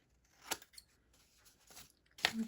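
Scissors snip through paper while trimming the edge of a handmade coin envelope, giving two or three short, crisp cuts with quiet gaps between them, close to the listener.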